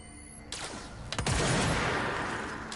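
A single loud sniper rifle shot in a video game, a sharp crack followed by a long, broad booming tail that slowly fades, with no talking over it.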